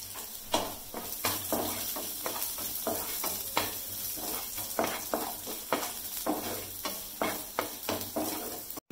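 Onions and curry leaves fry in oil with a little salt, a steady sizzle broken by repeated rhythmic scrapes of a spoon stirring the pan, with a low hum beneath.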